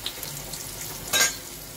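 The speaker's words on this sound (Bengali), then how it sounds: "এবার এই তেলের মধ্যে আমি আলুটা ভেজে নিচ্ছি" Potatoes fry in oil with turmeric for chicken biryani, giving a soft, even sizzle with a brief louder crackling burst midway, heard up close with nobody talking.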